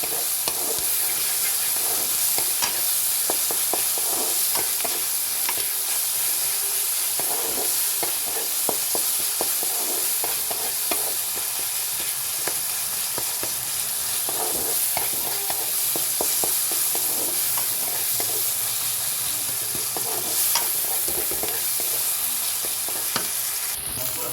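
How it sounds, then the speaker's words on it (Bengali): Onions and garlic frying in a pan, a loud continuous sizzle with steady crackle and frequent stirring clatter close up throughout. "ভালো করে লাল করে পেঁয়াজগুলো ভাজতে হবে রসুনটা দিতে হবে অবশ্যই"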